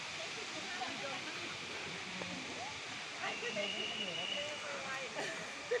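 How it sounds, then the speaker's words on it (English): Erawan waterfall in Kanchanaburi gives off a faint, steady broadband rush of falling water, heard from a distance while people talk and call out over it. "Oh, there's a waterfall!"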